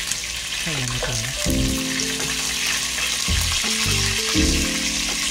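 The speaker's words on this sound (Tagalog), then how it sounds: "Balik po natin ang ating prito para maluto din po ang kabilang." Chicken thighs frying in hot oil, a continuous close sizzle heard under a speaking voice and some tonal background sound.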